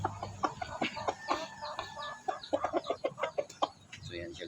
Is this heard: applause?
no